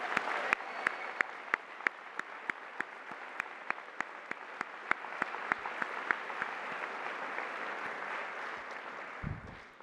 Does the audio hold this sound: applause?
yes